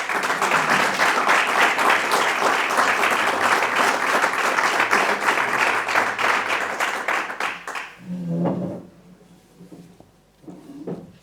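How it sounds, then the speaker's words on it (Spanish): An audience at a brotherhood (cofradía) round table applauds loudly for several seconds, then the clapping thins out and fades, with a few voices and shuffles afterwards. "Un fuerte aplauso."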